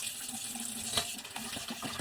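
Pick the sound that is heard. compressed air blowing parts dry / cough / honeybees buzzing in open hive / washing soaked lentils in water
washing soaked lentils in water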